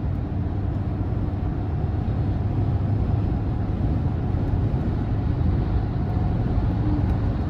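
Steady road and engine drone from a 2024 GMC Sierra 2500HD AT4 Duramax pickup cruising on the interstate, a constant low rumble with tire and wind noise and no talking.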